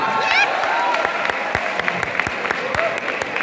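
Students applaud together at an academy welcome programme, a steady wash of clapping with a few sharper claps and a brief voice or whistle near the start, fairly close and full throughout.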